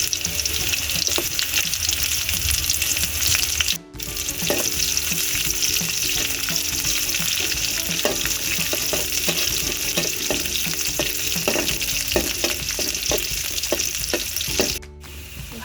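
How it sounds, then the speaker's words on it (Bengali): Chopped garlic and green chilli fry in hot oil in a wok, giving a loud, continuous close sizzle with scattered clicks and scrapes of stirring and two brief dropouts. "কড়াইতে তেল ধরে দিয়ে তেলটিকে গরম করে দিয়েছি এখন দিয়ে দিচ্ছি রসুন কুচি"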